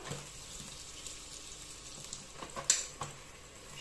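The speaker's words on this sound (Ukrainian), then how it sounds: "м'яско у нас тут смажиться" Meat sizzles steadily in a hot pan, a soft continuous crackle with occasional louder pops, close by and quiet, with no voices.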